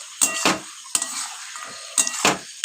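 Ingredients frying in a pan being stirred in several short scraping strokes, close and fairly loud, over a faint sizzle between the strokes.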